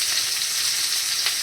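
Potatoes and cauliflower fry in a pan, giving a steady close sizzle that runs unbroken through the short moment with no voices.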